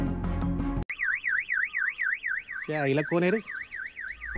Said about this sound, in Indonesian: Vijay tanpa sengaja mengaktifkan alarm mobil.